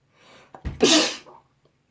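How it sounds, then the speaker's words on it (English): A person sneezes once after tickling the inside of their nose: a quick indrawn breath, then a single loud, close, explosive sneeze that fades out fast. "And eventually you sneeze."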